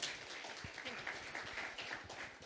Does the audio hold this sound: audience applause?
yes